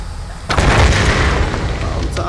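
A natural gas explosion goes off in Tomb Raider Definitive Edition on PS4. A loud booming burst hits after half a second and rumbles on, then fades slightly, with a brief sharp accent near the end.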